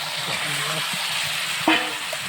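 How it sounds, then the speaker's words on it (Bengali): Fish pieces go into a pan of sizzling fried spice paste for a Bengali fish curry, a steady loud frying hiss with stirring clatter and one sharper splash-like burst near the end. "এখন মাছগুলো ঢেলে দেবো"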